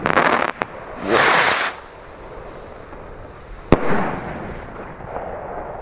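Rubro Aquarius firework rockets bursting outdoors, a few distant whooshing crackles and a sharp bang near the middle, each trailing off into a fizzing tail.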